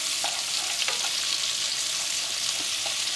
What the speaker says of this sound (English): That's the sound that you want to hear. That's saute.